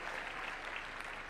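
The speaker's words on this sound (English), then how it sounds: "Give them another round of applause, please." Brief, quiet applause from an audience at a national dialogue forum in KICC, Nairobi, a steady wash of many hands clapping with no voices on top.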